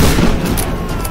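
A shotgun fires in the video game Tomb Raider (2013), giving loud, dense booming blasts with sharp cracks that follow one another closely in a heavy barrage.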